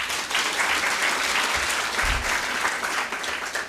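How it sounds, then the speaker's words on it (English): An audience at the 14th All Kenyan Moot Court Competition applauds the organizing committee, a steady, dense wash of clapping that holds loud and even throughout. "A round of applause for this team."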